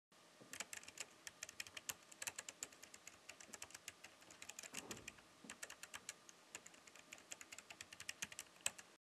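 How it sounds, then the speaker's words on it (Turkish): Quiet, rapid typing on a Logitech ERGO K860 low-profile keyboard, soft clicky keystrokes in a continuous irregular patter, close by. "Klavyenin tuş takımında ince profilli tuşlara yer verilmiş tuş sesi konusunda rahatsız etmeyen bir performansı var"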